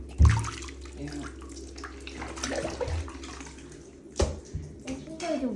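Squishy toys splash and slosh in a filled bathtub, with sharp splashes near the start and again toward the end, while someone talks quietly throughout.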